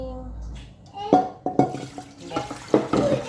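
Dishes being washed by hand at a sink: scattered clinks of plates and utensils knocking together, with splashing water and a faint voice in the background.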